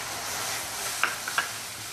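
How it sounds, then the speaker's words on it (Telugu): A bottle gourd sweet mixture fries in a pan with a steady hiss, broken by a couple of quick splashy bursts as milk goes in near the middle. "ఇది బాగా వేగిన తర్వాత కొన్ని ఒక హాఫ్ కప్ పాలు వేయండి."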